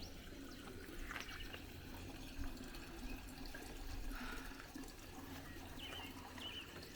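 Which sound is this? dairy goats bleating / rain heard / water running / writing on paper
water running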